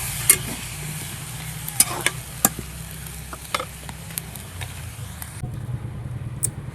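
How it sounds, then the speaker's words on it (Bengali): Potatoes are sautéed in a pan for a cabbage dish, with a soft steady sizzle and several sharp scrapes and clinks of a spatula nearby, without voices. "এই যে এখানে বাঁধাকপি করব, তার জন্য আলুটা ভালো করে কষিয়ে নিচ্ছি।"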